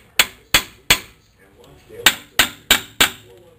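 Hammer tapping on a car's front axle, away from the bearing, during a front axle repair: seven sharp, loud metallic strikes in two quick groups of three and four, each with a short ringing tail, with no talk.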